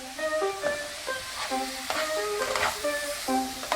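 Ribeye steak frying in butter for Philly cheesesteak eggrolls: a steady, close sizzle that runs the whole time, with a melodic tune playing over it.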